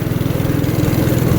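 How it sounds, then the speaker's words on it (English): A Predator 212cc go-kart engine with a custom exhaust runs loud and close, its rough, rapid putter pulsing steadily throughout with a raspy, unmuffled edge. "with this custom exhaust on, it's going to be pretty loud"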